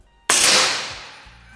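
A single shot from a suppressed PCP air rifle firing a slug, heard as one sharp, loud crack with a bright burst that decays smoothly over about a second, alone and without talk.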